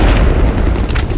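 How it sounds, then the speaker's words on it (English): A grenade explosion as a deep, loud boom that rolls on and fills the whole moment, with no voices over it. "Fire in the hole! Grenade out!"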